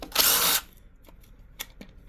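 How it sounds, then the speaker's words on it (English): A power drill whirs in one loud burst of about half a second while removing 10mm bracket bolts for a Camel ADV skid plate on an Aprilia motorcycle, followed by faint clicks and taps. "Your drill sounds like it's dying"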